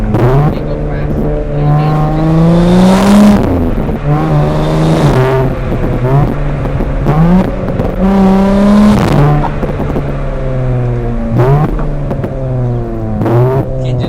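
An Audi S5 all-wheel-drive car accelerates hard, its engine revving up through repeated rising sweeps with brief dips between gear changes, loud and close throughout.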